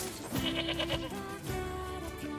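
Sheep bleat in a video game, a couple of loud, wavering calls close by that follow one another with no talk over them.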